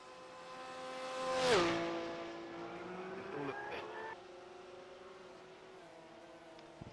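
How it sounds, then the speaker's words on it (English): Porsche race car in iRacing at Daytona sweeping past, the engine note rising to a loud pass then dropping in pitch and fading into a steady distant drone. "We definitely heard a Porsche there over the radio."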